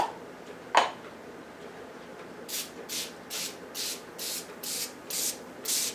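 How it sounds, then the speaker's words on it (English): A series of about ten short spray bursts from a trigger bottle of cleaner onto anodized aluminum car trim, evenly spaced and fairly close, after a single sharp tap at the start. "we're going to go ahead and just spray these down,"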